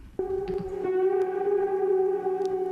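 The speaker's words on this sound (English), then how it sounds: "When you send it out to a reverb by itself" Overdriven electric guitar sent only to a reverb return, a sustained, wet, echoing distorted tone that swells after a sharp onset and rings steadily at a loud, even level throughout.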